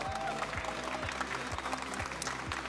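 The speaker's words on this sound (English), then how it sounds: "Can we get one more round of applause for our Indianapolis Regional Champion" Applause from an audience at a Pokémon regional championship in Indianapolis, a dense steady patter of clapping across the whole stretch, with a low rhythmic thump from the hall running underneath.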